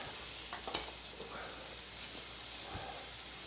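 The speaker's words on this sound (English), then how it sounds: "I'm just sauteing these all together." Onions sautéed together with pear in a pan sizzle quietly, a steady low hiss with a few faint utensil taps and scrapes, close but soft.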